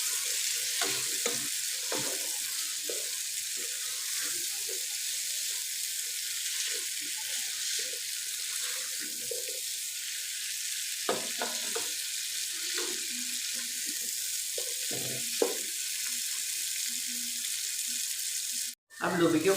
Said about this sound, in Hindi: लोबिया को 2-3 मिनट के लिए भूनेंगे।